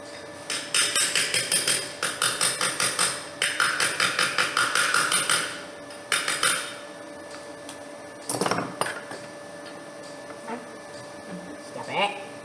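Rapid metallic hammer strikes ring out in quick bursts while shaping a bow for a Studebaker, pausing between rounds, then a few scattered heavier blows near the end.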